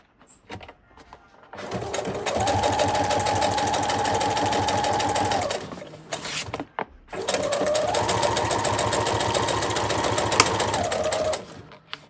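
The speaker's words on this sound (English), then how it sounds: "now we're going to sew the bottom." A sewing machine stitching the bottom of a lamp shade, two long steady whirring runs of a few seconds each separated by a short pause, close and loud.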